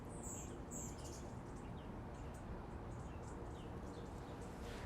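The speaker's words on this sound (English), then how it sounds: "There's a huge bush tit flock coming through in your backyard, and they are just so cute." A bushtit flock calls in a backyard: faint, thin, high chirps and twitters scattered throughout over a steady low background hiss.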